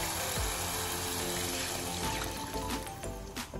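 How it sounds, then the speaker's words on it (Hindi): Two glasses of water pour steadily into roasted besan and spice masala to make gravy for soya kofta curry, a continuous close splashing rush with no talk. "अब ग्रेवी के लिए 2 गिलास पानी डालेंगे"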